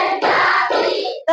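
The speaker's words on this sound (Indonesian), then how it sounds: "Nah, kita tepuk konsentrasi ya." A classroom of standing children claps together in a concentration clapping routine, a dense run of loud, close hand claps filling the moment.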